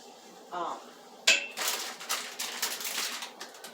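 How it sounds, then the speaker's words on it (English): Jasmine brown rice stirred in a pot, giving a quick metallic clink of a utensil against the pot followed by a run of soft scraping and clattering strokes, close and moderately loud, with a brief voice just before. "We also got to stir that up real good."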